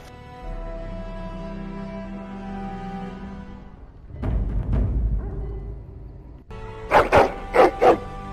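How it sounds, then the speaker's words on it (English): A hound barks in the video game Dragon Age: Origins. Game ambience comes first, then a burst of sound, and near the end three loud, close barks come in quick succession. "Your hound is making so much noise."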